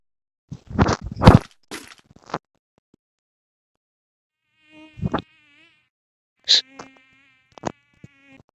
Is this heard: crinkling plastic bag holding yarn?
no